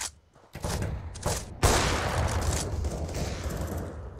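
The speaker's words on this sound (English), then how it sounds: "Grenade out." A grenade blast in Counter-Strike: a few sharp gunshot-like bursts, then a loud thump that trails off into a long noisy rumble.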